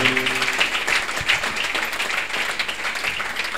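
Crowd applause at a book launch and unveiling ceremony, a dense steady clatter of many hands clapping throughout, fairly close and continuous with no pauses.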